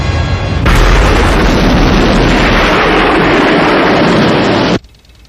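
A huge, roaring explosion follows a detonation in the Thunderbirds episode Ricochet, a loud sustained blast of rumbling noise that cuts off abruptly into quiet.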